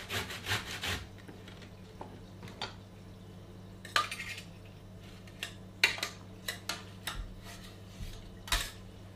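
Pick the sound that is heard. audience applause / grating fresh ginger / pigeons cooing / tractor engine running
grating fresh ginger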